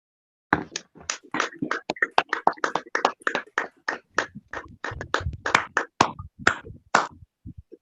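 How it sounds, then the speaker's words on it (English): Scattered handclaps from a small group of fellows and guests welcoming Dr. Zune at a public health graduation ceremony, sharp uneven claps that build for several seconds, then thin out to a last few. "let us give Dr. Zune a round of applause and welcome"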